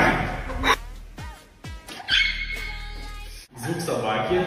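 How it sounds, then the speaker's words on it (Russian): A dog gives short barks and yips among people speaking and laughing in a house, the barks brief and close, mixed with voices throughout. "Звук собаки."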